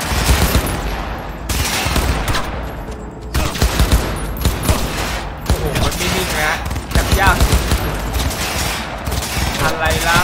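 Heavy gunfire in Cyberpunk 2077, rapid automatic bursts and sharp shots rattling almost continuously for ten seconds, loud and close, with a game soundtrack and a voice speaking underneath.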